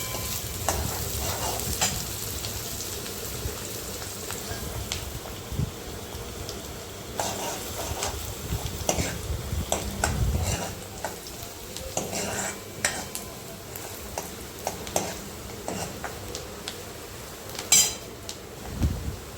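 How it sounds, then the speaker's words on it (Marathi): Chopped onions and cumin sauté in a pan for chana masala, a steady sizzle under repeated scraping and clinking of a spoon against the metal. "त्यानंतर 2 छोटे कांदे कट करून टाकलेत आणि कांदे लाल होईपर्यंत त्याला परतून घ्यायचे।"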